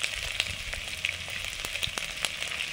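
Garlic and ginger sizzle steadily in hot refined oil, a close, dense frying hiss broken by sharp pops and crackles scattered throughout, with no talking.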